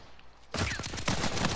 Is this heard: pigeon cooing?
no